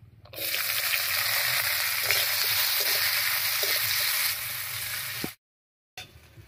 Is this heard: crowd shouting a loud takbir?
no